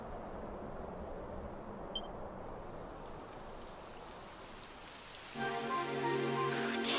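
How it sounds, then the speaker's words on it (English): Steady rain hisses softly in Dragon Quest XI, and a brighter patter swells near the end as the downpour picks up. No voices or other sounds break through. "It would have to go and start raining, wouldn't it?"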